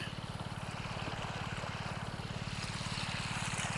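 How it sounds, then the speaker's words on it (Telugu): An irrigation pump engine runs in a white sorghum field, its steady rapid low thumping pulse going on evenly and faintly at a distance, with no voices over it. "అదేవిధంగా ఈ చేలో ఇంజన్ ఆడుతుంది."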